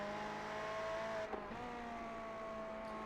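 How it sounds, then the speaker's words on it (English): A race car in the iRacing sim gives a steady, quiet, tonal engine drone that dips once as if shifting gear, then holds at a slightly lower pitch, with no talking. "you'll hear the revs and the gear changes"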